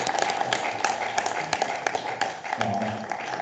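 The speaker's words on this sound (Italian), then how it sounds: "Ma l'applauso non è per le cose ultime che hai detto, ma per gli strumenti che ci hai offerto" An audience applauds during a lecture, with brisk, uneven clapping from many hands at moderate distance. A voice speaks briefly underneath as the clapping continues.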